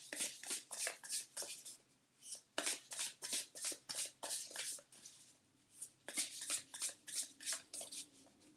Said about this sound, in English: Gotta find another way of shuffling some of these difficult cards.